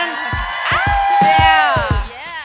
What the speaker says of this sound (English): If you learned something, I want to hear you scream.